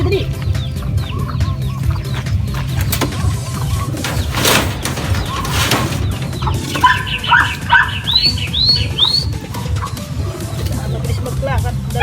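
Racing pigeons land at a loft during a race arrival, with clucking and fluttering bird sounds, chirps and a rooster-like call over steady background noise, while people talk excitedly nearby.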